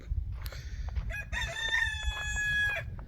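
A rooster crows nearby, a long drawn-out call rising and holding, with softer clucks and scratchy rustling around it.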